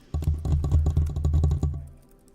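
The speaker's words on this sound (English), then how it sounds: "I was also typing on my laptop" Fingers type on a laptop keyboard in a coffee shop: a quick, steady run of soft clicking keystrokes for about two seconds, close and alone, then fading out.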